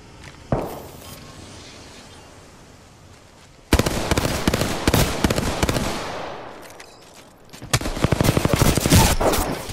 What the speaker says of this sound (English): I'm gonna throw grenades in on the other side.